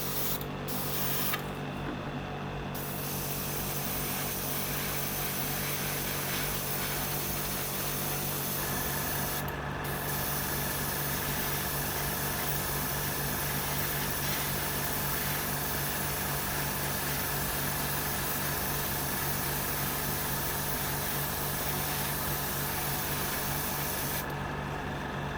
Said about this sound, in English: Sometimes it's hard to see when you're spraying white on white.